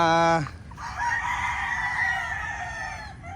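A rooster crows once loudly at the start, then chickens cluck and murmur softly in the rain, with steady rain hiss beneath.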